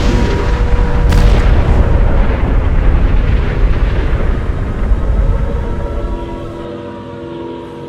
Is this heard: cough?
no